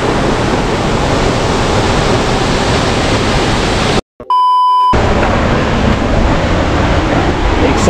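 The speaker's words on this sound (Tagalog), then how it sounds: "ang ganda ng Auasen Falls" Steady roar of Auasen Falls, a waterfall, loud and continuous, broken by a brief dropout of near silence with faint tones before the rushing water returns.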